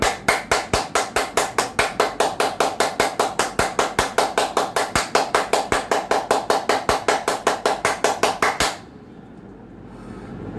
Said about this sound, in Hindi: आखिरी क्रिया, ताली बजाएंगे।